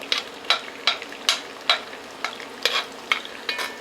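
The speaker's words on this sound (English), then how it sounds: "I don't really want to brown these onions, but I want to loosen them up and get them started good." Yellow onions fry in a pan and are stirred in regular scraping strokes about every half second over a steady low sizzle, close and clear with no talking.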